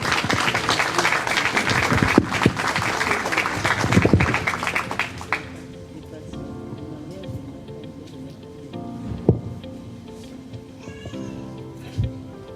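Audience applause fills a ceremony hall before parents and invited guests, a dense burst of clapping for about five seconds that then fades to a quieter room murmur.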